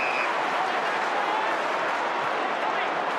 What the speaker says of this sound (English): Crowd is screaming.